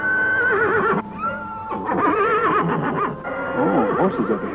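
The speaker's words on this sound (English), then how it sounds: "Oh, horses up ahead, huh?" Horses whinny loudly and repeatedly at close range in an outdoor western setting, with a long drawn-out neigh followed by shorter, shakier calls and no talk over them.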